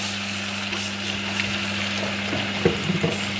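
Tripe in blended tomato sauce being stirred in a pan, a steady low sizzle and bubbling with faint scraping movements toward the end, no voices.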